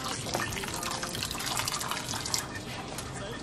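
Water streams from a tap into a cooking pot in a home kitchen, a steady close splashing fill that runs throughout without speech.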